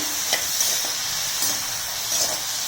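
Bitter gourd pieces sautéed with salt and turmeric in a pan for bitter gourd thokku, giving a steady close sizzle with a few soft stirring scrapes spaced through the clip and no talking.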